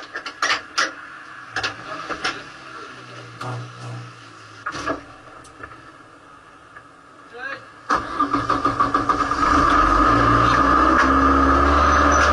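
A car engine cranks and catches after being jump-started with a portable battery jump starter, then settles into a loud, steady running roar; voices and scattered knocks come before the start.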